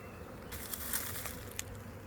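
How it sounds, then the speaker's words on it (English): Honey bees swarm and buzz steadily around package beehives installed that day, a dense continuous hum close to the microphone with individual bees darting past, and no talk. "A couple of package beehives here, just installed today."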